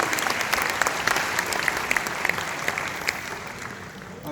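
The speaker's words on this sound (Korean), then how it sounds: "격려의 박수를 부탁드리겠습니다" Encouraging applause from an audience at a presentation for Asia Pacific leaders: sustained, close clapping at a steady level throughout that eases slightly near the end, with a brief louder sound at the very close.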